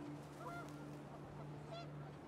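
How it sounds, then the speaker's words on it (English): Geese honk in What Remains of Edith Finch, a couple of faint honking calls over a low steady hum and wind. "panicked geese appeared and quickly went"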